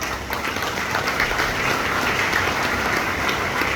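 An audience at a school inauguration event applauds the teachers, dense and continuous clapping from many hands heard close and steady without voices.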